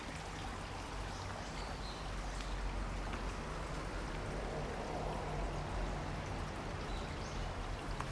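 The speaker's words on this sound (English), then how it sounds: "Water just keeps on flowing non-stop." Natural spring water in Tokyo, Japan flows and burbles steadily at a low level, a continuous gentle rush with no other sounds.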